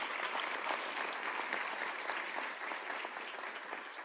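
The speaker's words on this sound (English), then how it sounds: "May we please give him another round of applause." An audience at a university African Union model summit in Johannesburg applauds, dense sustained clapping filling the whole stretch at an even level before easing slightly at the end.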